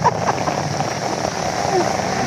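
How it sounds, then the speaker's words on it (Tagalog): Steady rain pours down in a dense hiss, with a voice talking over it throughout the brief stretch. "Naulan talaga guys."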